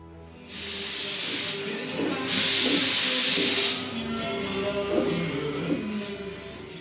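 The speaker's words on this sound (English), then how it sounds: "I get to spray a gloss finishing coat" A spray gun lays a gloss finishing coat on a boat's paintwork in two loud, sustained hissing bursts, the second longer, over a low steady hum.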